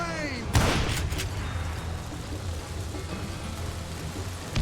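Gunfire in the Western shooter Call of Juarez: Gunslinger, a sharp loud shot burst near the start followed by a couple of quicker cracks, then a rumbling, noisy battle bed continuing underneath.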